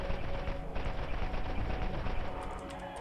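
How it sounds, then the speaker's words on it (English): Rapid automatic fire from the Clipper, a fire elemental gun in the video game Borderlands, loud and continuous with dense crackling bursts throughout and no talk. "This gun, the Clipper it's called, it's the first, well, usually the first elemental weapon that you get in this game."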